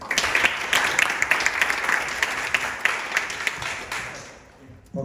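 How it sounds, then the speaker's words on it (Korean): Conference audience at a Korean sports media society academic symposium applauds, a dense steady patter of many hands that tapers toward the end and stops abruptly. "박수 쳐주셔서 감사하고요."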